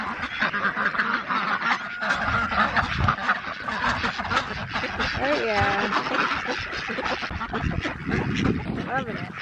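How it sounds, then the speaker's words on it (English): Ducks quack repeatedly close by in a garden beside raised beds, their calls overlapping and mixing with a few honking goose-like notes, while a person talks over them. "I think the ducks want some of this."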